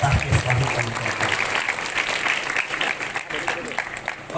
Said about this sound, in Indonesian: Beri tepuk tangan untuk Pondok Pesantren Tahfiz Fahimul Quran.